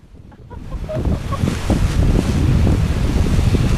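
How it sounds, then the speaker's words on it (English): Strong wind buffets the microphone outdoors in a steady, loud roar that builds within the first second and then holds as a continuous rushing gust with no talk. "Mummy, that wind is just"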